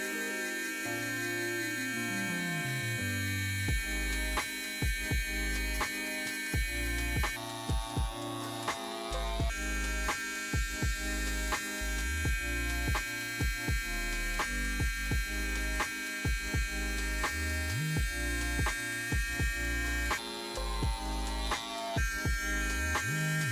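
Electric hair clippers run continuously during a DIY low fade haircut, a steady motorized buzz whose pitch and loudness shift as the blade moves through hair and the lever is adjusted, with no talking.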